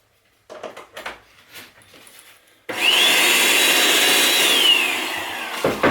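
After a few faint clicks and handling noises, an electric paint sprayer switches on into a loud, steady motor drone with a rising whine that dips slightly toward the end.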